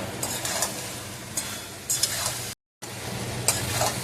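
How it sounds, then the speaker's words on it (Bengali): Ridge gourd sautéing in oil in a pan while cooking a potato and poppy seed curry, with a continuous soft sizzle, a few stirring scrapes, and a brief dropout partway through. "অনেকটা কষি এসছে, ঝিঙে থেকে তেল ছেড়ে দিয়েছে।"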